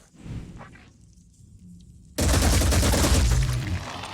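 A big gun fires in Phoenix Point: after a quiet lead-in with faint movement, a sudden loud, sustained burst of rapid gunfire erupts and keeps going.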